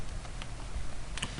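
A computer keyboard tapped quickly as a web address is typed, with a close, brisk patter of keystrokes over a faint room hum and no voices.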